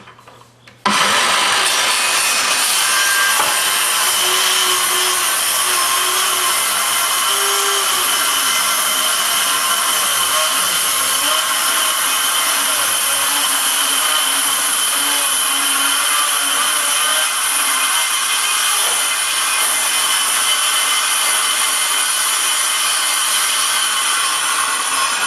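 A table saw rips a long, steady cut through wood on a Q*bert arcade cabinet being restored, the blade whining loud and unbroken for over twenty seconds after a sharp start.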